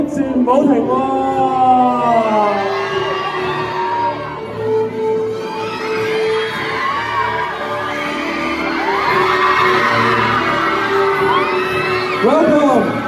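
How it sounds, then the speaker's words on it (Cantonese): A crowd of fans cheers and whoops continuously at the 18th Asian Film Awards warm-up event in Hong Kong, loud and sustained, while an amplified host talks over the noise. "我哋嘅歡呼聲，我哋 keep 住唔好停喎！"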